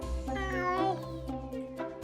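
Cartoonish cat meows in the puzzle video game The Cat Machine, a few short tonal calls spread over two seconds alongside steady game music and tones.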